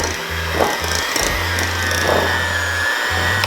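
An electric mixer beats cheesecake batter made with whiskey and pumpkin, a loud continuous motor whir with low humming pulses and scraping against the bowl.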